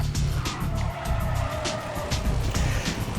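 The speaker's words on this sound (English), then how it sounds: "Classic muscle car number 31, Plymouth Barracuda or Plymouth Hemicuda" A Plymouth Barracuda (Hemicuda) classic muscle car drifts in Need For Speed: Pro Street, its engine roaring steadily under long, continuous tire squeal, close and loud throughout.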